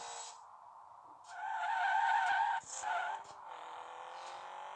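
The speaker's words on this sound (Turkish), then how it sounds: "fren yardımcısını kapattığım için savruluyoruz biz virajlarda" A car skids through corners in the Rally Fury racing game, tyres squealing loudly in long sustained screeches that rise and break off over a steady engine drone, with no talk.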